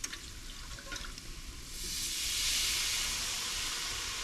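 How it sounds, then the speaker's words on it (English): Chicken broth goes slowly into a hot roux in a pot, giving a steady rushing hiss and sizzle that swells after a brief quieter start and holds loud and continuous. "Okay, we're gonna add the broth. So we're gonna wanna add this slowly."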